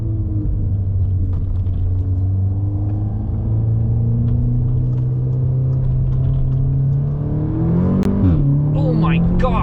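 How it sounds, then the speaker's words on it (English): A 2-liter Audi S3 accelerating hard from inside the car, a loud, steady engine drone that climbs in pitch, with a gear change near the end and a voice under the engine. "That's some hard acceleration from a 2-liter."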